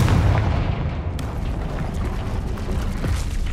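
Confringo fire-blast spell exploding in the Hogwarts Legacy video game, a loud booming burst at the start that settles into a dense, rumbling roar lasting several seconds, with no voices.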